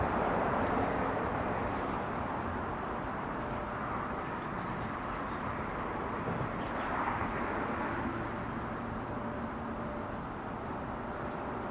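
Short, high chirps repeat every second or so, faint against a steady outdoor hiss.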